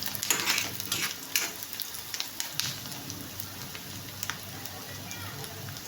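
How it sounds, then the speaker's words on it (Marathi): Onion lightly frying in a pan gives a soft, rain-like crackle with scattered pops and stirring clatter, fairly quiet and steady throughout. "हलकासा भाजून घ्यायचा आहे।"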